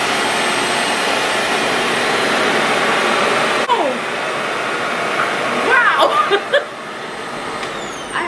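A Revair hair dryer runs on its higher heat setting with a loud, steady rushing whoosh throughout, while a woman exclaims faintly over it toward the end.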